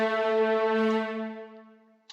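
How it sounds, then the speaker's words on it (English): A sustained synthesized horn note from an Xband plugin, with rich, bright harmonics, held steady and then slowly fading out, followed by a tiny click at the end. "I chose this horn from Xband"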